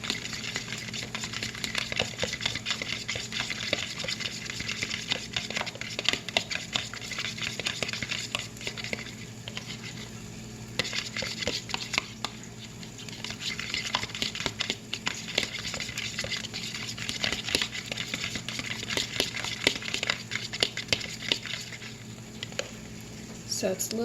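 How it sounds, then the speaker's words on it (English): Fork scrambling egg white with food coloring in a pan, repeated quick scraping and clicking strokes close up, sometimes over a soft sizzle, with a person talking at times. "with my fork, mix it all together to scramble it"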